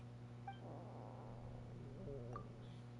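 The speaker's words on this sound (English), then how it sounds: "That would be my stomach growling." Stomach growling from a character in Genshin Impact, a short, low, wavering gurgle that rises and falls and sounds almost like a cat's yowl, set over a steady faint hum with no one talking.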